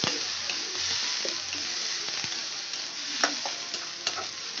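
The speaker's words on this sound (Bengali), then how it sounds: "পেঁয়াজ বাটাটা দিয়ে আমি ভালো করে কষাতে থাকি" Rohu fish being stir-fried with onion paste in a pan for a Bengali fish kosha: a continuous close sizzle with occasional spatula scrapes and light knocks as it is stirred.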